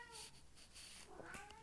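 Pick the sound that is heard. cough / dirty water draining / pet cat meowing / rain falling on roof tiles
pet cat meowing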